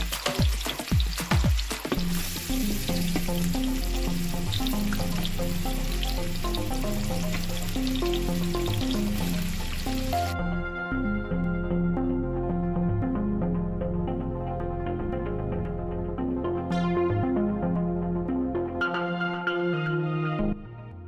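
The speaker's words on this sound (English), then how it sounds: "Heat the oil in a pan or in a pot. Add some onions and fry until it's golden." Onions frying in hot oil in a pan or pot, a loud, continuous close-up sizzle with a few clatters of stirring at the start, fading to a gentler steady crackle.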